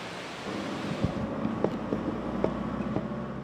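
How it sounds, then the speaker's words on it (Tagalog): Steady gusting wind roars across the microphone in a Bicol, Philippines storm with a broad rushing wash, scattered soft knocks and taps over it, like rain and debris. "nakakaranas ngayon ng malakas na hangin at panakanakang pagulan"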